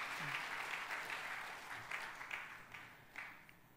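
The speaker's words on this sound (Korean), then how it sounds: "박수 해주세요" Applause from a large church congregation at a revival service swells as a dense, distant patter of many hands, then thins and tapers off into scattered claps.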